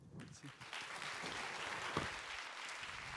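An audience at a French conference applauds to welcome a speaker, sustained clapping from a full room filling the space for a few seconds and fading toward the end.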